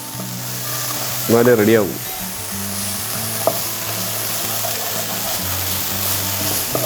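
A pan of chemeen achinga mezhukkupuratti, prawns with long beans, sizzles steadily while being stirred, with scraping under the constant frying hiss and a brief spoken phrase.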